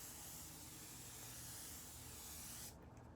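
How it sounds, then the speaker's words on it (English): Morphe continuous setting spray releases a long, steady, close hissing mist that runs for about two and a half seconds, then cuts off abruptly into quiet. "Morphe setting spray. It's a continuous setting spray mist"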